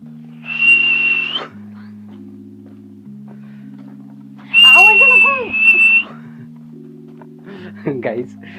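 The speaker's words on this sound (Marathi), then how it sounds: "मी तेवढं प्रयत्न करतो शिट्टी वाजवण्याचा" A person whistles in a forest on Taljai Pathar in Pune, giving two sustained high, steady notes close by. Low speech-like murmuring and a hum run underneath throughout.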